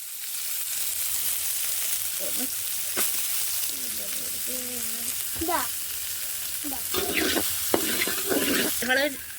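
Onion frying in a pan with cinnamon and cloves, a steady close sizzle with intermittent stirring scrapes, while a voice speaks briefly over it.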